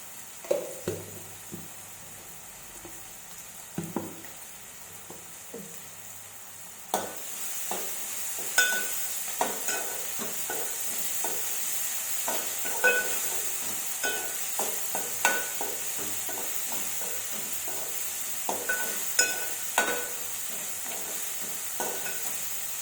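Broad beans frying in a pan with turmeric and ginger paste: a steady close sizzle with repeated stirring scrapes and clinks, which grow louder after the first few seconds.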